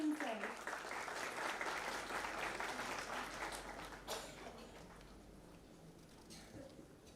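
An audience at an IP awareness event bursts into loud applause to welcome a speaker, the clapping strongest at first and then thinning and fading over several seconds.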